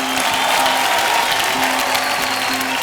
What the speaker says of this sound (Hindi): तालियां मेरे लिए